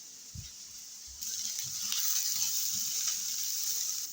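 A steady sizzling hiss of a sauté base frying in a pan, with a few soft clinks and scrapes of stirring near the start, no voices.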